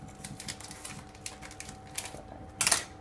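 A knife chops through maltitol sugar substitute on a board in a quick run of light, close taps, ending with a louder gritty crunch.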